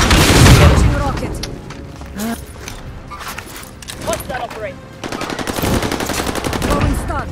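Video game combat with a rocket launch and heavy gunfire: dense, loud bursts of automatic fire and booms across the whole stretch, with a voice talking over the action.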